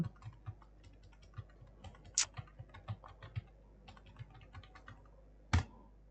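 Keys on a computer keyboard tap in an irregular typing rhythm, close and fairly soft, with a few louder clacks and short pauses between bursts.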